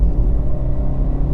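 A Honda CR-Z 1.5 hybrid with its engine intake roaring as the car accelerates: a steady, full low rumble close by with no voices.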